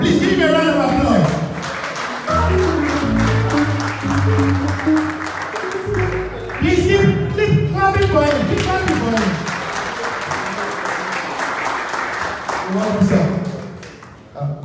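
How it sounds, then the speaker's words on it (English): Applause breaks out for a speaker being welcomed at a Chicago political fundraiser, a dense crowd clapping loudly and steadily for the full stretch, swelling briefly midway, with voices and cheers mixed in. "Please give him a round of applause."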